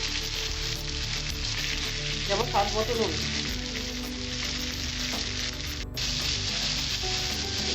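Chopped carrot, onion and capsicum sizzle steadily in a pan for mixed fried rice, a loud continuous crackle with a few stirring scrapes, while a voice speaks briefly over it.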